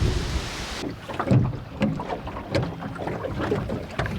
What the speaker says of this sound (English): We're having our morning coffee on the boat.